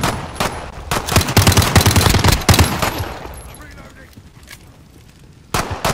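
Rapid gunfire rattles in a survival video game, a loud, close burst of overlapping shots that fades into quieter scattered noise before another sharp shot near the end, with voices talking throughout.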